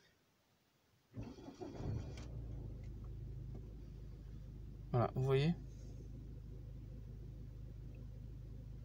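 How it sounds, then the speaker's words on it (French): A car with black smoke, hesitation on acceleration and power loss, its error code just cleared, cranks after a quiet start and catches into a steady low idle rumble. Someone speaks briefly over it. "Et là maintenant, je démarre la voiture."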